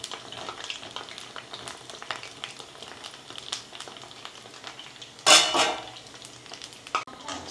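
Karela bhajiya, bitter gourd fritters, frying in oil over a lowered gas flame, a steady soft crackle and sizzle with light clinks of a utensil and one louder clatter near the end.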